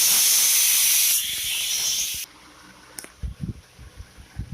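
A pressure cooker cooking rice and green gram blasts a loud, steady steam hiss for about two seconds, then cuts off, leaving a quiet room with a few soft knocks and clatters.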